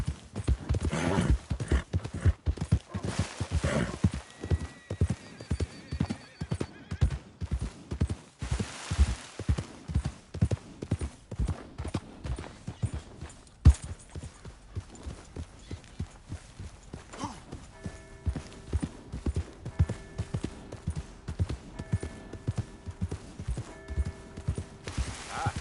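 Horse hooves clip-clop steadily in the video game Red Dead Redemption 2, a close rhythmic walking beat that runs throughout, with a brief neigh and faint tonal game sounds later on.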